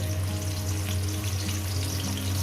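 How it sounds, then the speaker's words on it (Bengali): Potatoes sizzle and crackle steadily in hot oil in a pan, frying until browned, close and continuous, with a low hum underneath. "প্রথমেই আমি আলুগুলোকে লাল লাল করে ভেজে তুলে নেবেন"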